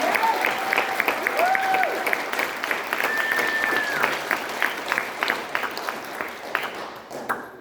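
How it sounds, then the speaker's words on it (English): An audience at an art fundraiser gives a sustained round of applause, dense and loud, gradually thinning out at the end, with a faint electronic tone sounding through it. "Can we please give them one more huge round of applause?"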